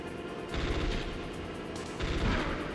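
Gunfire in the video game Metal Gear Solid: two bursts of booming shots with a muffled, heavy low end, separated by a brief lull, heard alone at modest volume.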